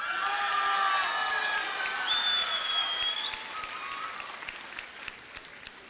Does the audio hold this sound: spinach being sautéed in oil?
no